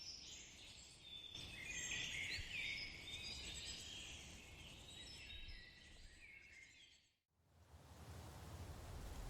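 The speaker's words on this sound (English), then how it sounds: "The chirping of insects blends with the gentle flapping of thousands of bats" Dense, steady high-pitched chirping of insects fills a night jungle in the Congo, with bird-like calls and gentle flapping of bats mixed in, briefly dropping out near the end before resuming.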